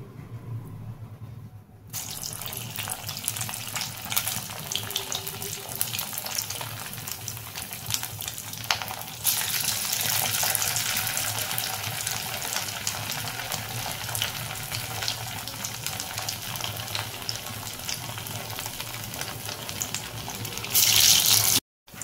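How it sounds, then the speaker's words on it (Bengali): Potato and flattened rice nest balls deep frying in hot oil, a steady close crackle and bubbling hiss that runs unbroken, growing a little brighter partway through. "এটাকে এরকম করে বলের মতন করে করে এটাকে ভাজতে দিয়ে দেবো"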